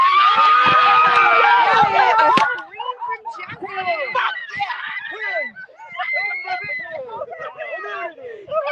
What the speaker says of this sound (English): And screams and hugs all around Ponytalos. They are overjoyed at this win.